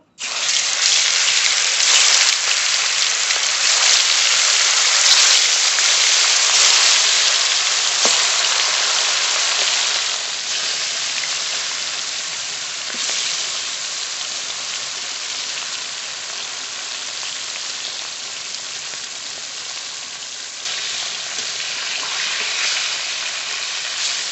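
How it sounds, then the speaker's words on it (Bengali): Salt-and-turmeric-coated rhitha fish sizzling in hot mustard oil in a pan, a loud steady frying hiss with crackles that eases slightly partway through, no talking. "ভেজে নেব মাছ ভাজা হতে থাকুক"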